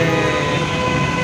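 Steady loud rumble of a metro train at a metro station in Hyderabad, continuous and close with no breaks, filling the whole moment without any voices over it.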